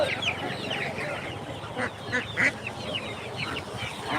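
Ducks and chickens crowd a poultry market, with overlapping quacks, clucks and squawks rising close and scattered above busy background chatter.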